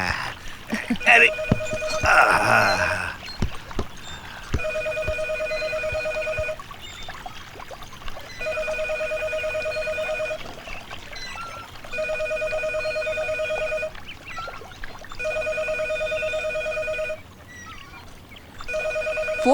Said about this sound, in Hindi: फोन बजे जा रहा है, कोई उठा तक नहीं सकता